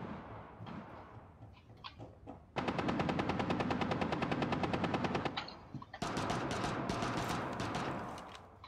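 Automatic gunfire in the tactical shooter Rainbow Six Siege: two long, rapid bursts, loud and close, separated by a brief pause, following quieter scattered clatter and shots.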